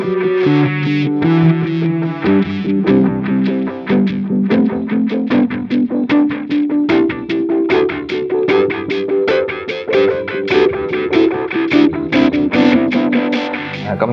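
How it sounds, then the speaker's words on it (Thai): Guitar played through a Line 6 Helix modeller running firmware 2.50, its delay effect repeating each plucked note into rhythmic echoes over a driven, slightly distorted tone, loud and continuous with no talk. "เดี๋ยวลองฟังเสียงดีเลย์กันก่อนครับ"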